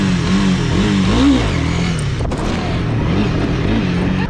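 A Honda CBR 300 motorcycle with a faulty clutch revs up and down while riding, its engine note rising and falling in quick swells, loud and close under wind noise.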